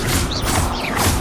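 Expelliarmus spell cast in the Hogwarts Legacy game during a fight with spiders, a short, loud whooshing magical burst with a creaking, grinding texture and rising swish tones, lasting just over a second.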